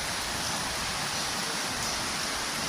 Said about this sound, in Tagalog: Sobrang ulan dito.